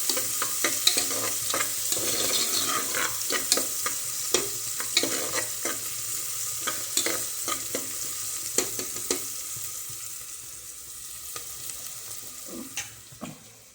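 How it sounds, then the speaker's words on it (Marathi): Dried coconut roasting in a pan while being stirred: a steady dry sizzle with frequent scraping and stirring knocks throughout, moderately close, with no talking. "हे खोबरं काय करायचं भाजूनच घ्यायचं"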